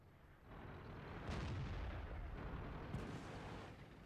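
Tank gun shots in World of Tanks from an E-50M, one booming report around the middle followed by a second, rumbling blasts over continuous low battle noise, loud and close.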